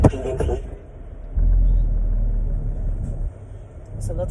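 A car rumbles low and steady during a driving lesson while trying to park. The heavy hum swells for a couple of seconds and then eases back, heard from inside the cabin with faint muffled sounds on top.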